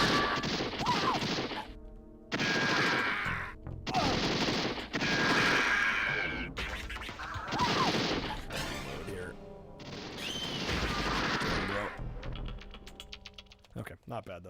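Rapid-fire bursts from RoboCop's Auto 9 pistol in a Nintendo video game, loud and close, arriving in dense rattling volleys separated by brief pauses, with electronic game tones mixed through the shots.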